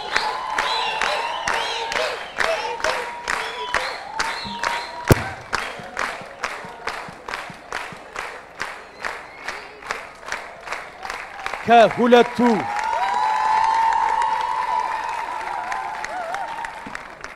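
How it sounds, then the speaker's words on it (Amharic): An audience at a students' quiz competition applauds in a steady, rhythmic clapping pattern that swells into a broader crowd roar with cheering, while a voice speaks briefly over it near the end. "ባካችሁ ሞቅ ያለ ጭብጨባ አድርጉላቸው።"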